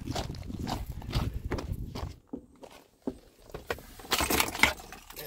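Keys jingle and clatter in short bursts as they are grabbed for a Mercedes, mixed with footsteps and shuffling around a truck, fairly close, no talking.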